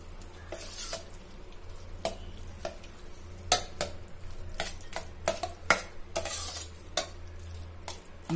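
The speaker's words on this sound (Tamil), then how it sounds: "ஆட் பண்ணிவிட்டு நல்லா மிக்ஸ் பண்ணிக்கோங்க" Curd rice being mixed with salt and milk, a spoon scraping and clinking against the vessel in uneven strokes with a soft wet squelch underneath, close and fairly quiet, with nobody speaking.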